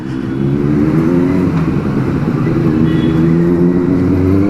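Benelli 600i motorcycle engine and exhaust echoing in a narrow lane, a loud, close, steady throbbing rumble that holds its pitch the whole time.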